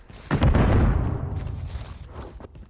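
A grenade goes off in the video game Modern Warfare 3 (MW3): a loud, close, deep boom bursts out and then rolls into a long, fading rumble.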